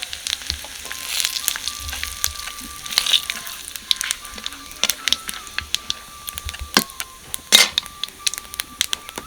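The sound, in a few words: bay leaf frying in hot oil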